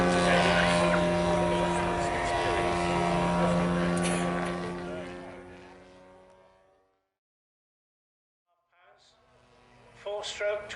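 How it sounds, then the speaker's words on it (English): Large scale model aircraft with a four-stroke twin-cylinder 85cc petrol engine flying at an air show, a loud steady droning buzz that fades away to silence before returning faintly near the end. "Four-stroke, twin-cylinder, petrol engine, 85cc."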